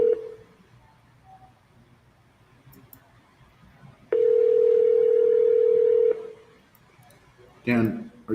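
Telephone dial tone: a faint steady tone at first, then a loud continuous tone for about two seconds, followed by quick dialing beeps near the end.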